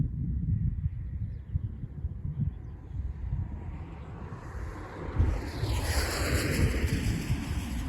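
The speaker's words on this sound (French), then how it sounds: "il y a une rafale descendante" A downburst wind gust from a thunderstorm roars in as heavy, rumbling, blustery noise, buffeting the microphone and swelling louder and harsher toward the end, with no talking.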